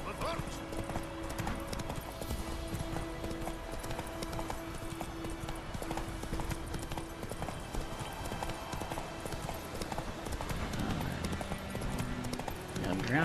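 Horse hooves clip-clop in a steady run beneath the Witcher 3: Wild Hunt game soundtrack, with a voice talking over the top.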